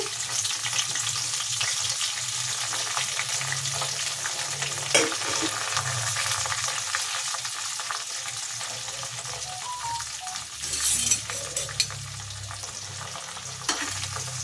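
Capsicum sizzles steadily in hot oil for bisibele bath, a continuous close frying hiss with occasional stirring scrapes and clinks, no voices.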